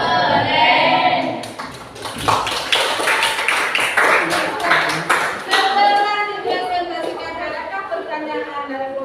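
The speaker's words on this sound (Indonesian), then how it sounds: "kita beri apresiasi. Tepuk." A classroom group claps together in a burst of applause after a presentation, loud and close, with lively chatter and voices carrying over and after the clapping.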